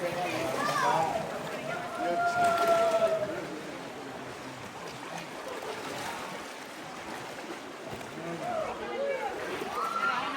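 Hikers wade through waist-deep river water, the current sloshing and trickling around them in close, uneven splashes while someone talks over the flowing water.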